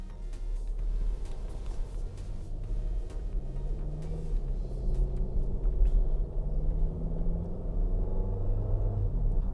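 Volvo V90 Cross Country T6 with all-wheel drive on the move, a steady low engine and road rumble droning evenly throughout, close and continuous with no talk.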